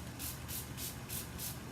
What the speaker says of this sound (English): I'm going to spray my face with some of this Wet n Wild stuff